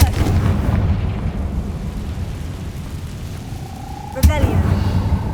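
A Confringo spell explosion in Hogwarts Legacy, a sharp loud blast near the end following a rumbling, booming background.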